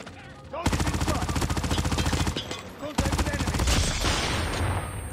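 Rapid automatic fire from the Saber 4 weapon in a modern war shooter game, two long sustained bursts of dense, loud shots with a brief pause between them, ending in a rougher burst.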